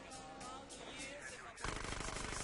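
Police gunfire in GTA San Andreas erupts as a dense burst of rapid, clattering shots that grows louder partway through, over a busy backdrop of game noise.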